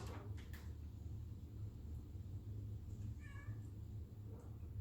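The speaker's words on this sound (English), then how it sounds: "And I'm going to let my cat in." A pet cat meows faintly as it is let indoors in New Orleans, a short harmonic cry partway through, nearly buried under a steady low rumble and room noise.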